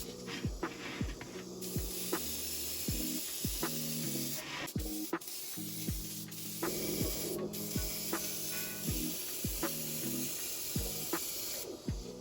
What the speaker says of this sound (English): Airbrushed orange color all over the mask to make it a bit brighter.